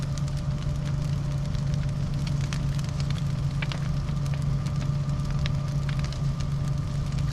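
A large fire of burning trees crackles steadily and loudly at close range, with constant sharp pops and snaps over a deep continuous roar, and no voices.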